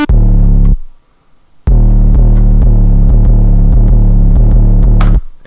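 Heavy 808 bass in a trap beat, loud sustained notes with short pitch slides and rapid stuttering retriggers, dropping out briefly before the pattern resumes.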